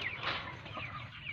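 Broiler chickens about 45 days old on a farm give soft, overlapping clucks, quiet and close, in a short stretch with no talk.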